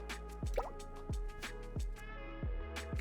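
In the Everseed video game, watering plays as a steady run of evenly spaced water drips and plops against faint ambient game music, with no voices.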